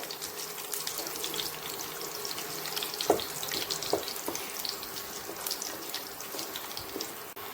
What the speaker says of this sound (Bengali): তেলের মধ্যে একটু ঘি মিশিয়ে নিয়েছি, তাতে ফ্লেভারটা খুব ভালো আসবে।